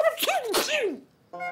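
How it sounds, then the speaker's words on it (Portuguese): A cartoon turkey sneezes in a Garfield cartoon: a nasal vocal burst rising and falling, then a short separate tonal sound after a brief pause, close and loud. "Por que está espirrando?"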